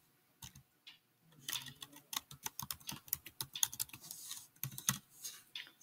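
Keys clatter on a computer keyboard as login details are typed in, a quick, uneven run of close, crisp taps after a couple of isolated presses, with no voices.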